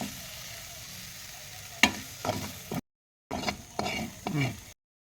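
Drumstick meat being fried and stirred in a pan with tomato and onion, with sizzling broken by sharp stirring scrapes and a brief gap of silence before more frying and clatter, close up and without talk.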